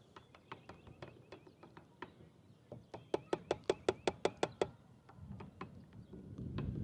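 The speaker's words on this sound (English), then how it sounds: "And then you're supposed to stir." A spoon clinks in quick, rhythmic taps against the plastic chamber of an Aeropress while coffee is stirred, the strikes bunching into a brisk close flurry mid-way before a soft outdoor rush of wind or surf rises at the end.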